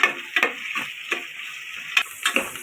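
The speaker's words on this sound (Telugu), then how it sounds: "ఆనియన్స్ అనేది కొద్దిగా వేగాయి." Sliced onions fry in a pan with salt, a steady close sizzle broken by light clicks and stirring taps of a spoon, with no voices.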